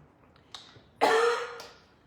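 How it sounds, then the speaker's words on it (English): A woman coughs and clears her throat indoors, close to the listener: a short rough burst of coughing starts loud and fades over about a second, after a faint earlier catch. "And I'm coughing."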